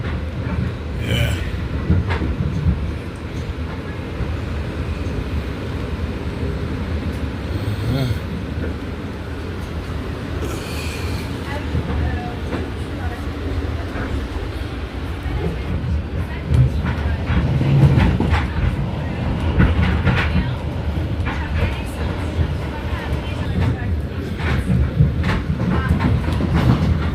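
Commuter train between White Plains and New York City, rolling along the rails with a continuous loud rumble and rhythmic clickety-clack heard from inside the car, with occasional faint voices.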